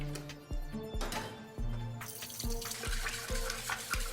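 Water splashes and streams into a mixing bowl of eggs and milk for crepe batter, a steady pouring hiss that grows fuller halfway through, with faint rhythmic tapping underneath.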